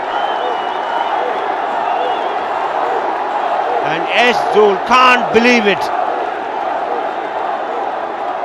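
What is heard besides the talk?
cricket crowd roaring and cheering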